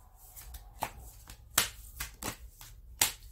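Tarot cards being shuffled and handled nearby, heard as a handful of sharp, separate flicks and snaps spread over a few seconds against a quiet background.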